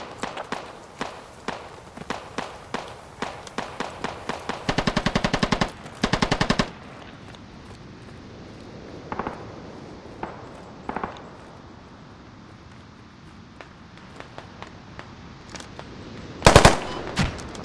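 Machine gun fire in the tactical shooter Squad comes as rapid bursts over the first several seconds. Sparse single shots, distant thuds and footstep-like taps follow, with one sharp, loud burst near the end.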